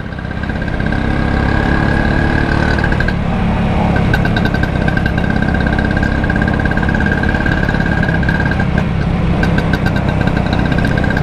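Classic Vespa scooter engine running steadily on a night ride, a continuous close, loud mid-pitched drone with wind rush and a faint whine, no talking.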